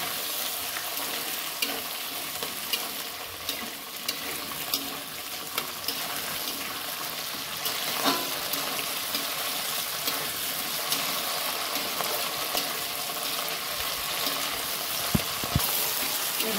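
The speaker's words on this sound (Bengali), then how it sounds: "টমেটোটা দিয়ে দিলাম, দিয়ে দিচ্ছি, হালকা ফ্রাই করে নেব।" Tomato lightly frying in oil in a pan, a long even sizzle with occasional stirring clicks and scrapes, fairly quiet and steady, no one talking.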